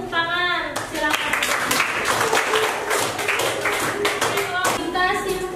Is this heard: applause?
yes